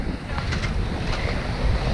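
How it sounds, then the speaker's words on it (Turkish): Strong wind buffets the microphone continuously, a loud rushing roar with gusty bursts and no clear voices. "Duymuyorum rüzgar var."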